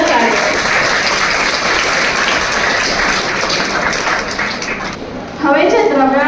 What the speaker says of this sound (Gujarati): તો તેમના માટે ફરી એકવાર જોરદાર તાળીઓ.